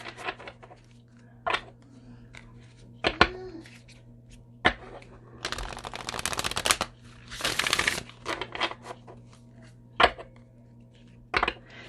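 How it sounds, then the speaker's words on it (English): Akashic Oracle cards are shuffled in several riffling bursts, with scattered taps and clicks of the deck between them, close and fairly quiet. "I'm going to pull an Akashic Oracle card"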